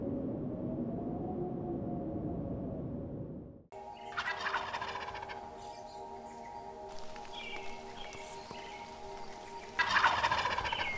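Wild turkeys gobble in the distance in the Great Smoky Mountains, Tennessee, a rapid rattling call repeated over steady outdoor background noise.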